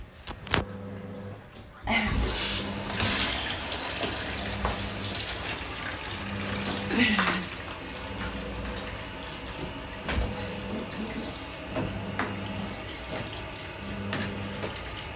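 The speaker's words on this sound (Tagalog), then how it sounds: "Ngayon guys, magsha-shower ako." Shower water runs steadily through most of the stretch in a home bathroom, a continuous hiss of spray with a few knocks and thumps, and a short louder burst near the start.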